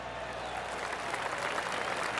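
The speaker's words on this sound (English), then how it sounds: "Oh, golf clap." Light, polite golf clap from a small crowd at the 18th hole of a PGA Tour Players Championship round, soft and steady throughout with no voices standing out.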